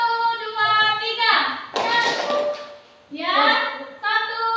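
Classroom children stand and do a rhythmic spirit clap in short patterned bursts, with a teacher's voice leading and counting between the clapping sections.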